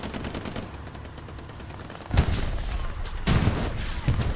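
Gunfire crackles through a WWII video game battle as an anti-tank gun duels a Jumbo tank, with a dense rattle of shots and two loud, sharp bursts standing out near the middle and end.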